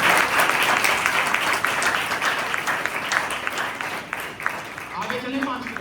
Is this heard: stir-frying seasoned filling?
no